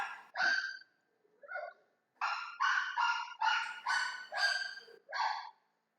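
Small dogs bark close by in a series of sharp, high yaps, about eight barks spread irregularly over several seconds with brief pauses between them.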